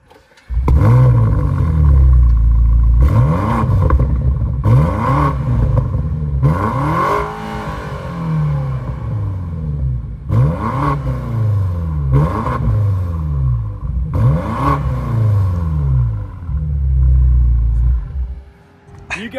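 A new Audi RS5 and a BMW M5 G99 are revved hard, close and loud. Their engines rise and fall in repeated rev bursts with rumbling, sweeping pitch, separated by brief drops back toward idle.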